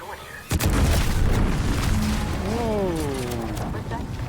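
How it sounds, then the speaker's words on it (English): A sudden loud boom erupts in The Outer Worlds 2, a deep explosion blast followed by a sustained rumbling roar with rising and falling tonal whines, while someone speaks underneath. "Was that an explosion?"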